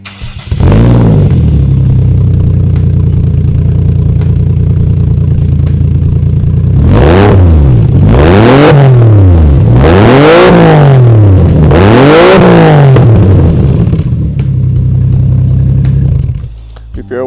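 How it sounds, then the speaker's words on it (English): A Mercedes 190E with a 1JZ engine cranks and fires up, then revs sharply four times in quick succession, rising and falling loudly before settling back to a steady idle. "this is my 190e Mercedes, and let's give it a quick startup"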